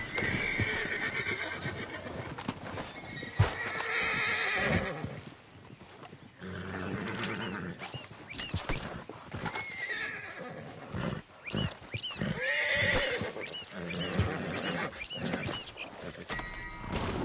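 A horse ridden in Red Dead Redemption, with repeated loud neighs and whinnies over rhythmic hoof clip-clops, interrupted by a few sharp bursts and a voice speaking briefly.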